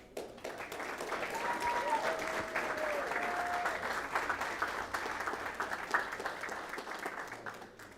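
At a school district board meeting, an audience applauds high school athletes with a sustained round of clapping that fades somewhat toward the end, while a voice speaks faintly underneath.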